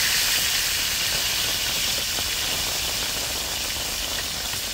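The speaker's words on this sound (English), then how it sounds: "I'll put in some tomatoes in there to start the cooking" Tomatoes sizzle in oil in a pot over an outdoor fireside chulha, a steady, loud, even hiss with no voice over it.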